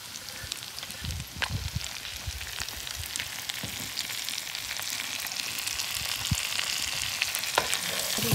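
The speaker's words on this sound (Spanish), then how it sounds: "Vamos a ponerle lo que es la cebolla y el chile para que se frían juntos." Onion and chile frying in a pan alongside browned sausage, giving a continuous dense sizzle with scattered pops and light stirring scrapes, steady and close throughout.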